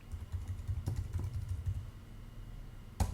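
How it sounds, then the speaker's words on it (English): Steady typing on a computer keyboard, close and fairly loud, with a continuous run of key clicks and a sharper keystroke at the end, heard alone. "So I'm going to start by typing in Dubai British School."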